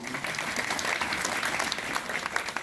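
Warm applause from a group at a children's personality development camp in Nariyara, clapping for a young girl, a dense, steady patter of many hands close by with a faint voice underneath.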